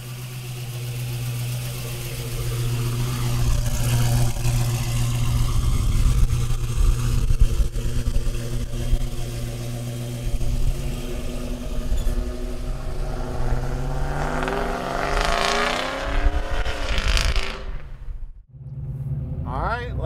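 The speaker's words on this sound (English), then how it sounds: "you can definitely hear that LS1 working" A deep LS1 V8 engine in a 1949 GMC pickup truck idles with a steady low rumble, then revs and accelerates, rising in pitch before dropping off, with talk over it.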